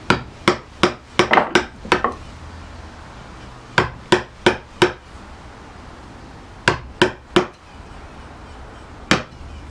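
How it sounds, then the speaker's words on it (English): A narrow chisel is struck with a mallet to chop end grain in a wooden joint, giving sharp, close knocks in uneven bursts of several blows separated by short pauses. "I've switched to a narrower chisel to chop this end grain here."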